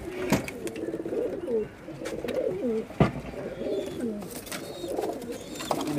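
Domestic pigeons of a home-bred flying breed coo repeatedly in soft, rolling phrases close by, with a steady low background hum and a few faint bird chirps.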